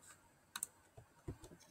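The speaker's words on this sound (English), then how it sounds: "if you hold Control and the letter A on your keyboard" A computer keyboard's Control and A keys are pressed together as a shortcut, a few faint, crisp clicks spaced apart in a quiet room, with no voices.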